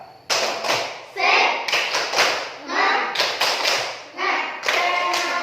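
A classroom group of pupils performs a rhythmic spirit clap, bursts of sharp hand claps in a patterned beat mixed with chanted voices, loud and close.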